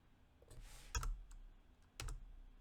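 A few separate keystrokes click on a computer keyboard while a command is typed at a terminal, spaced about a second apart, quiet and close.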